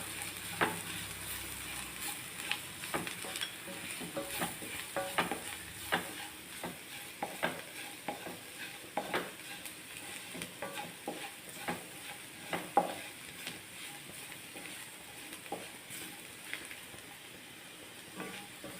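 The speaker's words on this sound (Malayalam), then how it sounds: "മല്ലിപ്പൊടി, പച്ചമണം മാറുന്നത് വരെ ഒന്ന് വഴറ്റാം" Coriander powder masala being sautéed in a pan for fish roe, a soft steady sizzle broken by frequent sharp spoon scrapes and taps in an irregular stirring rhythm, fairly quiet and without talk.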